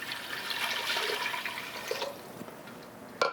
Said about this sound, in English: we're going to add the 4 cups of water